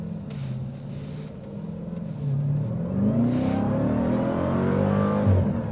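Supercharged 2025 Dodge Durango SRT Hellcat Hammerhead engine revving hard and pulling away, a deep, loud rumble that swells and builds in the second half, steady and close with no talk.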